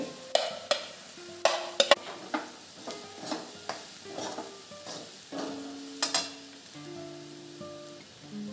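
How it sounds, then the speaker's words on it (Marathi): Crumbled leftover bhakri churma tipped into a hot pan and stirred, giving repeated scraping clinks of a spoon on metal at a steady rhythm over a soft sizzle, fairly close and alone. "बारीक करून घेतलेला भाकरीचा चुरमा टाकते"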